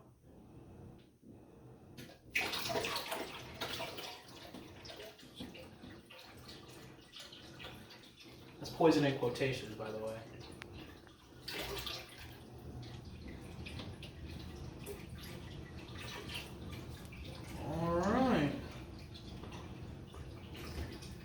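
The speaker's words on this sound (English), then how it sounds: "We're going to use the old siphon effect, and we're going to put it into our fish tank here." Raw spring water siphoned through a tube into a fish tank, heard as gurgling, splashing bursts that swell and fade at intervals over a low trickling background, with someone speaking briefly.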